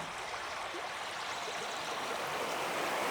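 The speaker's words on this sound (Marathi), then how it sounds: "मी आता या ओढ्यापाशी आली आहे." A rocky stream in a Konkan forest rushes over black stones, its steady, close, full-bodied flow continuous throughout with no voices.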